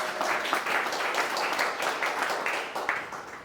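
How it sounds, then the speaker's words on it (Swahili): A church congregation claps for Jesus in a sustained burst of dense, fairly close applause lasting a few seconds, with scattered voices mixed in. "pigia Yesu makofi"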